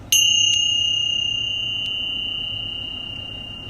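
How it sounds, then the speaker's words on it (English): Meditation bells are struck, giving a bright metallic strike followed by a couple of quick lighter strikes, then a long, pure ringing tone that slowly fades over several seconds in a quiet room. "And so I do that by simply striking the bells"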